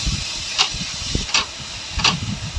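Onion, ginger, green chilli and garlic sizzle in hot oil, a steady loud hiss broken by three brief sharper crackling bursts, with no talk.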